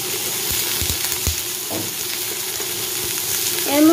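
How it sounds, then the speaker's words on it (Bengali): Papaya pieces fry in a hot pan with a steady, close sizzle, broken by a few soft clinks of stirring and a louder surge of hissing at the very end. "এবার পেঁপেগুলো দিয়ে দেওয়া হবে, ভালো করে ভাজা হবে"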